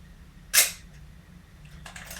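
A fully overhauled film SLR camera fires its shutter once, a single crisp sharp snap up close, followed by fainter mechanical clicks and rattles.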